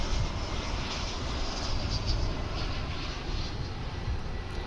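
An airplane on the runway at DFW International Airport, heard as a steady loud roar of engine noise with a broad rumbling wash that holds level throughout.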